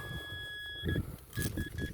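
A metal detector sweeps a field corner and gives a steady electronic tone, then a series of short, sharp beeps over rustling and scraping sounds nearby.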